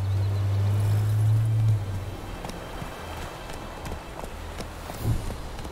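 Horse hooves clip-clop in a steady, quick rhythm at close range in The Witcher 3: Wild Hunt, over a low hum that cuts out early.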